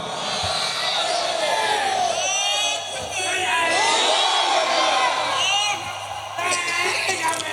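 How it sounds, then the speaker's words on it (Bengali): A large crowd at an outdoor Islamic sermon in Haragachh, Rangpur shouts the takbir together in loud, sustained collective cries, several swelling waves of voices rising and falling over about seven seconds. "দুটো হাত তুলে আমার আল্লাহকে তাকবীর দিয়ে দেখান"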